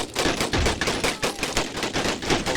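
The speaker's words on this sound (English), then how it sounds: "my Gatling guns should be firing on something else, because right now they're firing straight into the wall" Gatling guns rattle in a video game battle on the plains between U.S. Cavalry and Native Americans, delivering rapid, evenly spaced bursts of mechanical gunfire that pulse steadily throughout.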